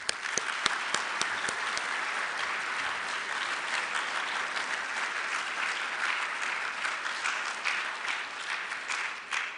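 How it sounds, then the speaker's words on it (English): Banquet audience at a student design competition applauds the volunteers, a dense, steady patter of many clapping hands with a few sharper claps at the start, sustained at even loudness throughout. "Let's offer them a round of applause, well deserved, for their efforts this year."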